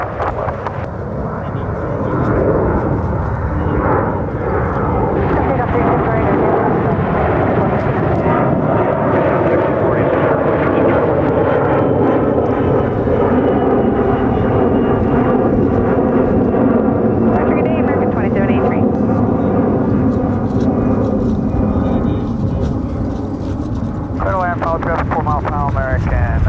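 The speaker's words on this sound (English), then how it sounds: "that was an A321 with American Airlines" An American Airlines Airbus A321 passing near Dallas–Fort Worth International Airport, a loud, close roaring jet rumble that swells and holds steady with a slowly falling whine for nearly half a minute.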